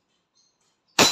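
A black WE 1911 MEU gas-powered airsoft pistol loaded with gas and BBs fires a single sharp, loud shot after near silence.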